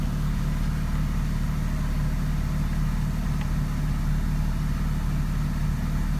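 A Mazda RX-7 FD with a rotary engine idles steadily right after its first start, a loud, constant low throbbing drone with no pauses and no talk.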